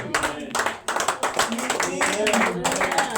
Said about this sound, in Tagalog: Palakpak para sa inyo ni Playas ni Elizabeth.